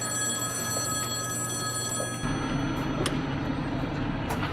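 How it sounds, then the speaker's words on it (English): A restaurant telephone bell rings as a steady, bright, continuous ringing over a rumbling background of noise, then drops to a fainter sound partway through. "Is that the restaurant phone ringing or the payphone outside?"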